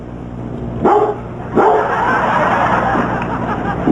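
A dog barks a few times at close range amid a murmuring crowd, with people talking over a busy, noisy room.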